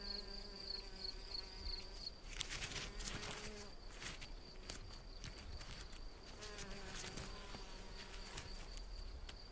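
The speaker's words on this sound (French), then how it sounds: "Cette osmie bicolore a fort à faire pour aménager son futur nid." Red-tailed mason bee (Osmia bicolor) buzzing steadily as it works on its nest, a continuous insect drone over about ten seconds with faint clicks and rustles around it.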